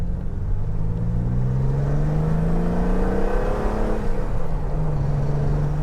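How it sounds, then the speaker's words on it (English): A 1972 BMW 3.0 CSL classic road racer engine revs up through rising and falling pitches as it changes gear, a loud, close, continuous rumbling drone heard from on board while driving. "Changes gear so easily, it revs so really willingly"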